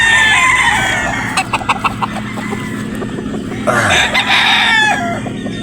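Sweater-breed gamefowl rooster crows loudly and close, amid clucking from other fowl, a second crow rising near the end over a low engine-like background hum.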